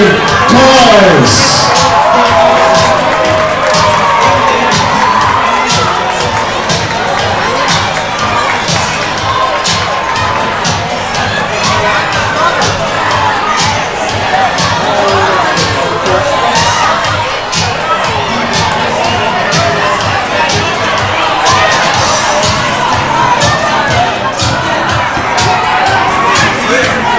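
Loud, sustained crowd noise at a 3rd grade basketball championship game, with children shouting and cheering alongside applause throughout, voices mixing in the din.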